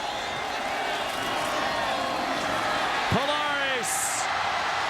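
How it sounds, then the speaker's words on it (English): A steady, loud stadium crowd roars throughout a 2007 Hawaii versus Boise college football game, a constant wash of voices with a whistle-like tone and a short high burst near the end. "You heard the crowd roar"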